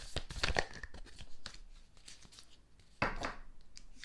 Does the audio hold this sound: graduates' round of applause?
no